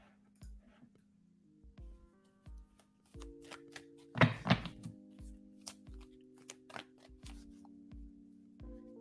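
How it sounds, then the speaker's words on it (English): Tarot cards shuffled by hand during a live reading: a brief, close riffling burst near the middle, with softer card handling around it and quiet background music beneath. "One more shuffle."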